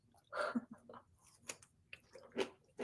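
Someone chews on a pickle close up, with wet crunchy bites and squishy chewing in an irregular rhythm over a few seconds, fairly quiet and with no talking.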